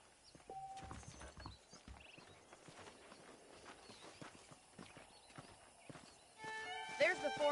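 Hooves clip-clop from a horse in the video game Red Dead Redemption, shown as the PS4 port played on PS5. A steady walking rhythm of moderate loudness plays under speech, with a neigh or louder burst near the end.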